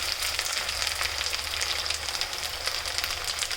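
Onion paste and chicken fry in a pan over a low flame, giving a steady, dense, crackling sizzle that runs throughout with no talking.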